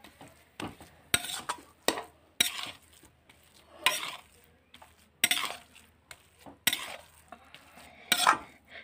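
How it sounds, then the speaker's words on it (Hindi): A spoon stirring chopped green coriander into dosa chutney in a kadhai, with sharp scraping strokes and metallic clinks in an irregular rhythm, close and fairly loud, separated by brief quiet gaps. "अब इसको हम मिक्स कर देंगे।"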